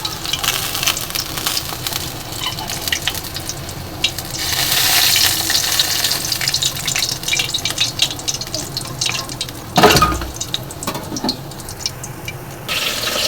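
Rohu fish pieces frying in hot oil for a mustard kalia curry, a steady close sizzle throughout with a brief louder splatter partway through.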